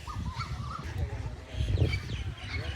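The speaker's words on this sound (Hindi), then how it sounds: "मान, कितनी सारी बत्तखें यार।" A crowd of ducks quacks and calls around visitors at an outdoor spot where they can be fed popcorn, with honking cries rising over a busy background and people talking nearby.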